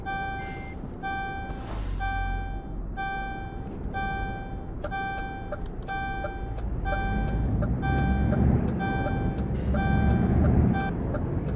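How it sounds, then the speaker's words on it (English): A DAF 95 ATi truck in Euro Truck Simulator 2 rumbles with repeated reversing-style beeps and air-release hisses from the clutch, the engine note rising and swelling toward the end, with no talking. "it's even got the nice DAF clutch sound to it"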